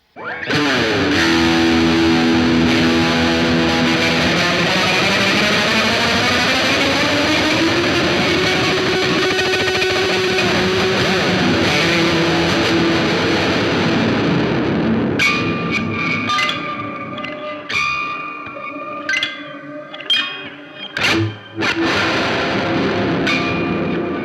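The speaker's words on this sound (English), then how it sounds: "Let's put all the distortion on just for fun" An electric guitar plays through an effects pedal with full distortion, a thick, sustained fuzzy wash that swells and bends. It then breaks into sparse, glitchy stabs and cut-off bursts.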